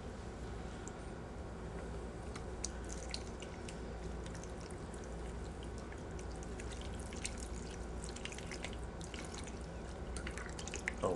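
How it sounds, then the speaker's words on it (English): Tap water runs steadily with dripping and splashing as hands are washed at a sink, a continuous close wash of liquid with no talking. "I'll go ahead and finish washing my hands now"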